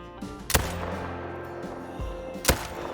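A rifle shot fired at a black tahr in the hunting game theHunter: Call of the Wild, a sharp loud crack with a second shot two seconds later, over a low ambient hum.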